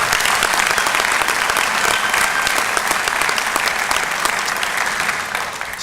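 A crowd at the Barton County Community College spring commencement applauds its graduates, a loud, sustained roar of clapping that holds steady and eases slightly near the end.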